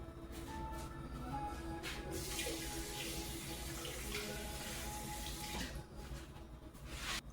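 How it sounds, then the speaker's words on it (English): Water runs steadily into a pan of seasoned turkey wings in a home kitchen, a continuous close pour that eases briefly near the end. "Adding a little water"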